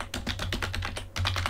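Rapid, even keystrokes on a computer keyboard as a task is typed into an app, a close, crisp run of clicks with a brief pause just past the midpoint and no voices.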